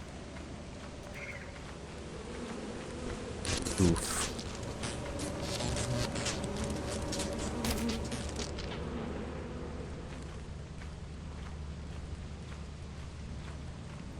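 Swarming bees from a beehive in the video game Lethal Company, a steady insect buzz that swells and lingers for several seconds over a low ambient background, with brief footsteps and a short grunt.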